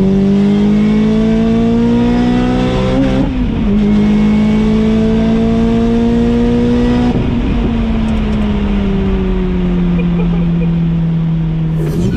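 Lotus Exige S British GT Special Edition engine droning loudly from the cabin while driving, its pitch holding steady then dipping through a couple of gear changes and easing lower, with a voice talking over it.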